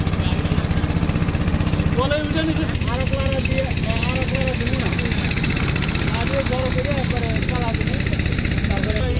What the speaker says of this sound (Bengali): দেখুন সামনে কিন্তু একটি ইঞ্জিন চালিত নৌকা যাচ্ছে